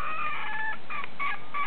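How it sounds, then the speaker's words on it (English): Chickens clucking and crowing in a backyard flock, several bright overlapping calls in quick bursts, close and fairly loud with no talking. "Anyway, that's our chickens."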